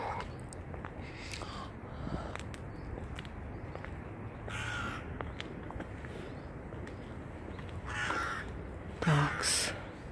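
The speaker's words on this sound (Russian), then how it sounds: "Только вороны каркают." Crows caw outdoors on a cold, quiet street in Izmir, Turkey, several harsh calls spread through the clip at moderate distance over faint ambient noise and a few footsteps, with no talking.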